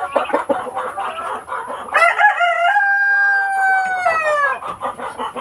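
Chickens clucking and a rooster crowing loudly up close among farm breeders at feeding time, with a clear drawn-out crow in the middle and busy clucking around it.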